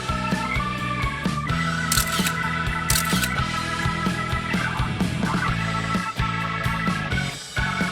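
A camera shutter snaps twice in quick succession, two crisp clicks heard over continuous, busy background music in a game scene.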